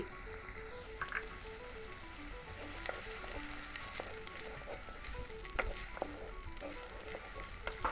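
Onions and green chillies sizzle steadily in a pan while fish putt is being cooked. The frying holds at an even level under faint music, with occasional sharper crackles and stirring sounds.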